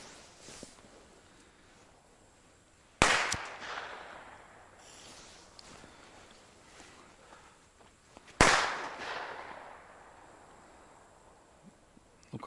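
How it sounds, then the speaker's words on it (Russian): Two firecrackers go off outdoors several seconds apart, each a sharp loud bang with a short echoing tail over a quiet, faintly rustling background. "Пару петард."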